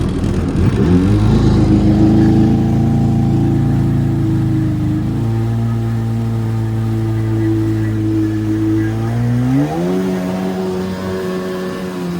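A cheap jet ski engine runs loud and close in a steady droning hum, dipping in pitch partway through and then climbing again near the end, with no voices.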